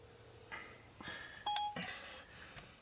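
A phone places a call through Siri, with quiet dialing beeps and short electronic tones sounding in a quiet room.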